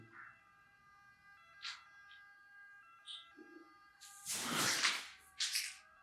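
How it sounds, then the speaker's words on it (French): A faint, distant police siren holds steady tones in the background, broken by a few short, louder bursts of noise close by. "Sirène police, ça."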